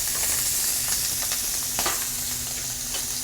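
Shrimp sizzle and crackle steadily in a hot pan, a constant bright frying hiss with occasional louder pops, close up.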